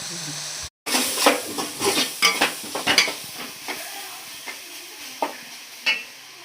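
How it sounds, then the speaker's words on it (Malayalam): Garlic, green chili, ginger, tomato and coriander sautéing in a pan, with soft sizzling under a series of scraping, stirring strokes, close and moderately loud, with no talking. "വെളുത്തുള്ളി, പച്ചമുളക്, ഇഞ്ചി, ഈ തക്കാളി, മല്ലിയിലയും കൂടി നമ്മൾ മുറിച്ച് വെച്ചിട്ടുണ്ട്. വഴറ്റിയെടുക്കാം."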